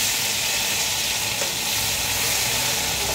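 Ginger, green chili and crushed garlic paste sizzling in hot oil in a pan while cooking a mutton stew with vegetables; a steady, loud, even frying hiss fills the whole stretch with no voices.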